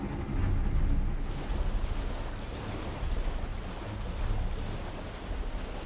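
A waterfall in a video game gives off a steady, dense rushing roar of falling water. It is loud and continuous, with slight surges in level and no talking.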